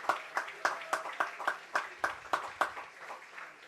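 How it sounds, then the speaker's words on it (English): A small crowd at a Fourth of July American Legion baseball game claps in a quiet, sparse rhythm for military members, each clap distinct and moderately distant, with no voices over it. "Let's give them guys a nice round of applause."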